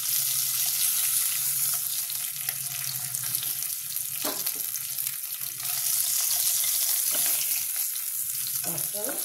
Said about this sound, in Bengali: দেখো এই মাছটা আমার ভাজা হয়ে গেছে লাল করে